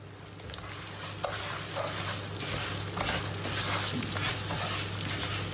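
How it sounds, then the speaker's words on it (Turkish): Vermicelli and two glasses of bulgur toast together in a hot pan, giving a steady, close, dense crackling sizzle with small pops throughout and no talking. "Şehriye ile beraber bulgurları kavurmaya başladık."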